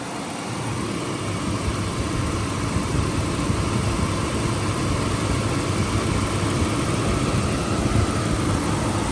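A 1996 Lincoln Town Car Signature with 117K miles idles with its engine cover missing, giving a steady, even rumble that stays constant and close throughout.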